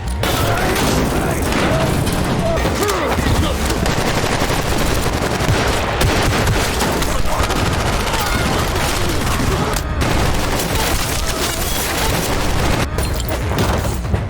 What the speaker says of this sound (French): des tirs vont surgir de part et d'autre